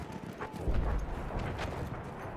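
Faint clip-clop of horse hooves in a Battlefield video game, a few soft thuds under a busy wash of game background noise.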